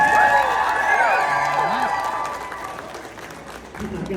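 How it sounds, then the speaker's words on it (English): Applause and scattered cheers from a crowd at the Sweets and Geeks Expo, a Pokémon and cosplay fan event, fairly loud at first and easing off, with a voice and other sounds mixed in. "Guys, let's give a huge round of applause for Sweets and Geeks for that"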